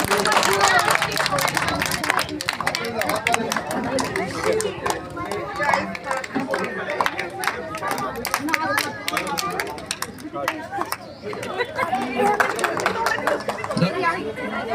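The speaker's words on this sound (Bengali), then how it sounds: "সবাই জোরে হাততালি দেবে বাচ্চাদের উৎসাহিত করার জন্য" Scattered clapping and crowd chatter at a kindergarten school's annual sports event, sharp hand claps rising and falling over a steady hubbub of many voices.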